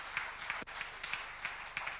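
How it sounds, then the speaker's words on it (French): Church congregation clapping together during a sermon, a steady rhythmic beat of many hands at moderate distance, with a brief sharp knock partway through. "Applaudissez le Seigneur pour ça, mes frères."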